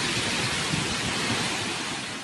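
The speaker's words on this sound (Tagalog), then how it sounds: "Tuloy-tuloy na buhos ng ulan" Heavy typhoon rain pours down steadily in Catanduanes, a dense, loud, unbroken roar of water with no voices.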